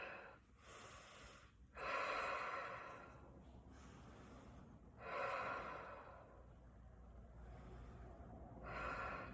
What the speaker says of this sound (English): so we're going to just take a couple of breaths here.